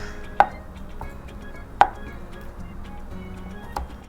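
A knife chopping tofu into cubes on a cutting board, with a few sharp, well-spaced taps close by over quiet kitchen background.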